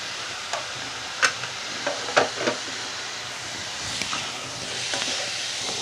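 Chicken frying in a pan with salt, a steady broad sizzle and hiss with a few sharp pops and stirring clicks near the start, holding at an even moderate level.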